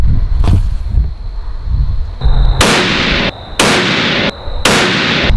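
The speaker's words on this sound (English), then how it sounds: "we just got done shooting a couple more 5-shot groups, different bullets, different grains of powder" A 300 Win Mag rifle fires at a range: about four loud, sharp, close shots with distinct booming reports, spaced roughly a second apart after a quieter opening with a faint earlier crack.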